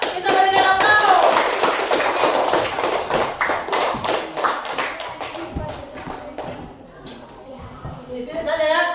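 Classroom applause from students, a dense stretch of many hands clapping that fades and then swells again, with voices talking in the room.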